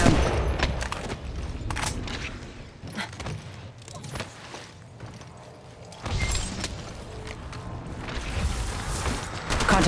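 Rapid gunfire bursts in the Apex Legends Mobile battle royale, sharp cracks clustering in irregular volleys with short lulls and clicking mechanical handling between them, moderately loud with a sustained firefight bed.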